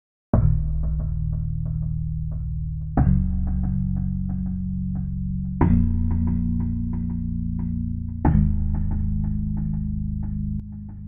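A pluck synth from Logic Alchemy plays a repeated melody line in a zouk-style production, four phrases of short bright notes sitting over a sustained low bass layer, loud and alone.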